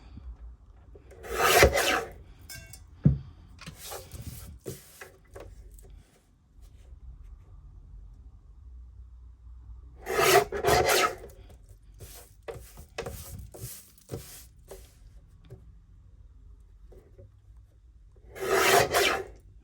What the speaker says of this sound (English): So I'm gonna start trimming.